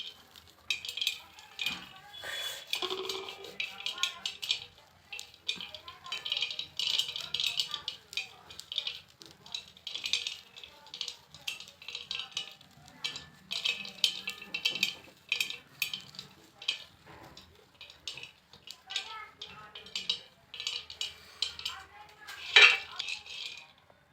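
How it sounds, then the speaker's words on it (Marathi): Roasted hurda, tender sorghum grains, being crumbled by hand in a metal plate, with soft rustling and light scraping broken by occasional clinks against the plate, close up, and a voice speaking at times. "हे पहा असा हुरडा चुरगळून घ्यायचा एका ताटात कशात"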